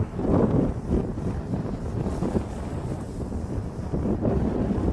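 Strong wind at a marina quay on the shore of Lake Michigan buffets the microphone in heavy, uneven low rumbling gusts that continue throughout, with no voices.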